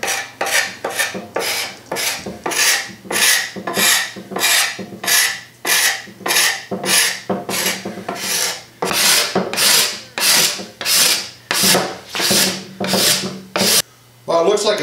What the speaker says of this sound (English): I'm using a cabinet scraper and I just sharpened this.